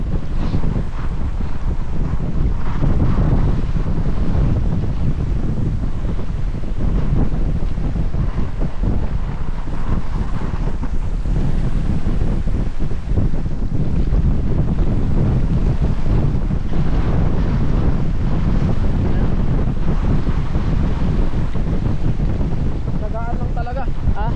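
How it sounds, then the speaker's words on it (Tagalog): Strong wind buffets the microphone in a constant roaring rush, with a faint wash of water beneath it and no clear talking. "Sobrang lakas kasi ng hangin."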